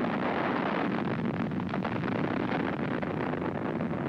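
A Sergeant missile firing right after a countdown, a loud, sustained broadband roar with rumbling, wind-buffeted texture that holds steady for the whole stretch without a break.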